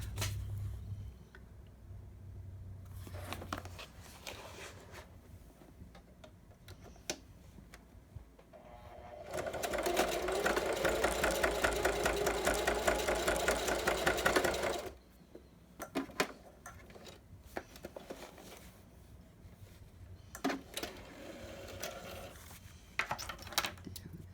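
A sewing machine stitches a folio journal in a quick buzzing run of about five seconds in the middle, with quiet handling sounds and light rustling before and after.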